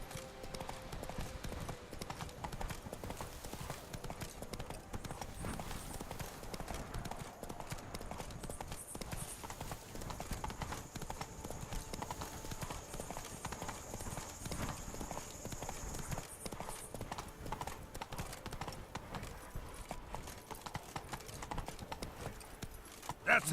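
Horse hooves clip-clop steadily throughout in The Witcher 3: Blood and Wine, a ridden horse at a continuous gait over a low ambient game background.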